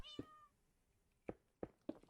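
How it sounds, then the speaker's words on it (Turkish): Cats in a Minecraft survival world meow four times, one drawn-out call followed by three short, evenly spaced mews, close and clear with no talk. "Şimdi kedilerimizi de yerleştirdik arkadaşlar."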